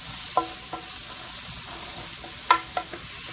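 Ingredients sautéing in a pan for a creamy lemon garlic chicken and shrimp dish: a steady background sizzle broken by a few sharp clicks of a utensil against the pan.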